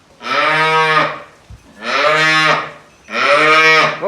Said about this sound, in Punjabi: ਇੱਧਰ ਆ ਗਈਆਂ ਆਪਣੀਆਂ ਗਾਈਆਂ।